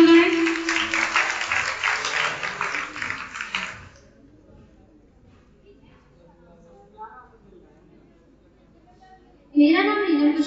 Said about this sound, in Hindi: एक बार फिर जोरदार तालियां हो जाए।